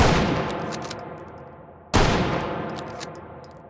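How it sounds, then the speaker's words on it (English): Two powerful gunshots from a firearm in the VR shooting game H3VR crack about two seconds apart. Each blast is close and loud and rings out into a long fading tail, with no talk. "So let's say we've actually shot 2 rounds out of this."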